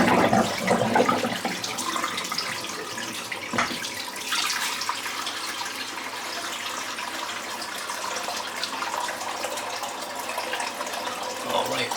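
Water runs steadily from a bathroom sink tap, a continuous close hiss lasting throughout with slight shifts in flow.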